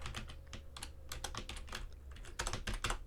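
Fast typing on a computer keyboard, close and fairly quiet: a steady flurry of crisp key clicks with a slightly louder burst near the end, over a low background hum, with no speech.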